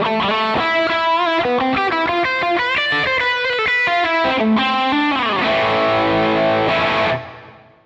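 An electric guitar drives a Marshall Studio Series Plexi amp into crunchy overdrive, playing a quick riff of distorted notes before ringing out on a sustained chord that fades away.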